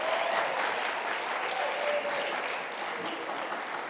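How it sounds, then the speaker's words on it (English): An audience of student athletes applauds a sports nutrition speaker after a talk, steady dense clapping that fades slightly toward the end. "Can we give her a big round of applause?"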